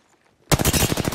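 Automatic gunfire in the video game Apex Legends: a sudden, loud, close burst of rapid repeated shots that starts abruptly and continues steadily to the end, with no talking.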